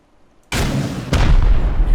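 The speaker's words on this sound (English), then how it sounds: "So we'll go ahead and pop a rocket in there" A Dragon Rocket Launcher in Rust fires twice in quick succession, each launch a sudden loud whooshing boom that stays loud and roaring through the rest of the moment.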